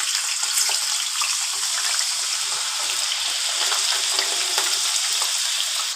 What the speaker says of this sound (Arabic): فهننزل بقى بالبطاطس بتاعتنا في الزيت